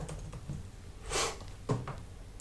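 Computer keyboard keys clicking in a few short bursts while text is typed into Photoshop, close and fairly quiet, with no talking.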